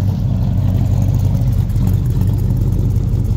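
A 1957 Chevy 3100 Stepside pickup truck idles with a deep, steady exhaust rumble, loud and close with no speech over it.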